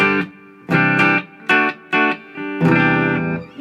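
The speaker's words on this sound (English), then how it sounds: "the sound is so rich and lush. It's just, wow, like a little bit of reverb there" A Vox DA15 amp playing electric guitar in a series of bright, sustained chords and notes, each ringing out with a lush reverb tail between strikes.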